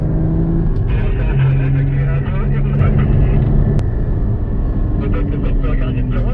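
An ultralight trike engine holds a steady loud drone as the throttle opens, its pitch edging upward, with voices talking over it throughout.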